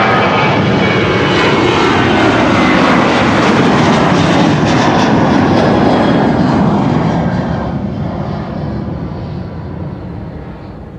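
A jet airliner roars down Schiphol's Kaagbaan runway 24 on takeoff, a loud, steady broadband engine rumble that holds strong before gradually fading as the aircraft climbs away.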